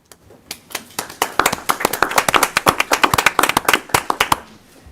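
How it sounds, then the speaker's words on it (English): A small group claps at a county commission meeting in a hard-surfaced room, with individual handclaps crisp and distinct, building after a quiet start and then holding a brisk, uneven rhythm before thinning out. "we can applaud you again"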